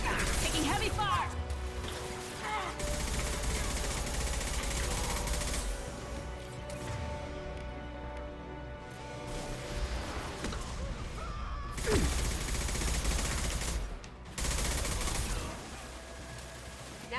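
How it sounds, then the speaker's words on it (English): Heavy gunfire and crashing impacts in Mass Effect Legendary Edition, with sustained bursts of shots and loud hits spread across the clip under game music, while a voice talks at times. "Taking heavy fire."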